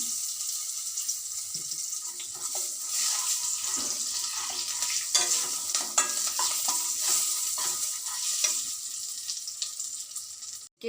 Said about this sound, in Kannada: ಆಮೇಲೆ ಇದಕ್ಕೆ ಮೆಣಸಿನ್ಕಾಯಿ ಒಂದು ಸ್ವಲ್ಪ ಕರಿಬೇವಿನ ಸೊಪ್ಪು, ಒಂದು ಸ್ವಲ್ಪ ಹಿಂಗೆ ಹಾಕ್ತಾ ಇದ್ದೀನಿ.